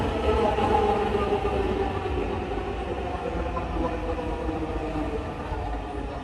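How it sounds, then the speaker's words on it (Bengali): Metro train arriving at a station, a steady loud rumble and rolling rail roar that swells at first and then holds evenly, with faint voices in the background. "দেখো ট্রেন আসতেছে।"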